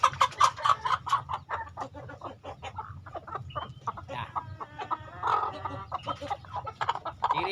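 Bangkok brood hen clucking repeatedly in a steady, close rhythm, with other fowl calling around her on a farm; a brief spoken word is heard.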